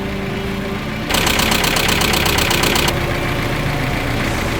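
A Mazda Miata engine idles steadily after a spark plug change, a continuous mid-pitched hum close by, with a brief brighter rattling layer joining for a couple of seconds before settling back.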